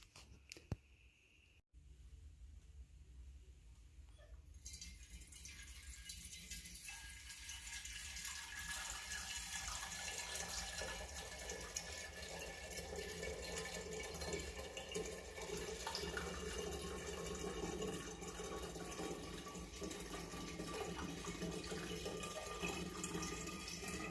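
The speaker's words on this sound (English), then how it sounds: "So now what we're going to do is we're going to add the rest of the water." Water is poured into a one-gallon glass jug while making mead, a steady close hiss and gurgle of filling liquid that starts after a few quiet seconds and runs on continuously.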